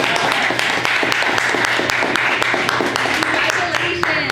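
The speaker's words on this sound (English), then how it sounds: "So everybody give him a round of applause." A diner crowd at a 1950s Route 66 diner applauds the winner of a 4-pound Monster Burger challenge, with steady, dense clapping that holds throughout at close range over a background murmur.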